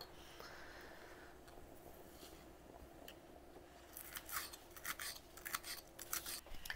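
Scissors snipping fresh chives and mint herbs, quiet close cuts that turn into a quick series of crisp snips in the second half, no talking.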